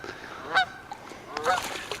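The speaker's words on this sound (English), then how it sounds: "We even got the geese active this morning." Geese honk outdoors by the water in the morning during bass fishing, in two short bursts of nasal calls, moderately distant, over faint background noise.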